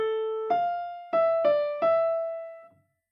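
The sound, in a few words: beginning of a melody starting on A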